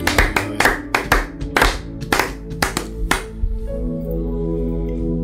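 A church congregation clapping in praise, a series of sharp uneven claps ringing out close and loud for about three seconds before fading into a sustained musical tone.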